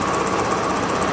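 Running VJR scooter engine with a 61 cylinder kit and retuned fuel injection, a close, loud, rapid rhythmic putter with no pauses.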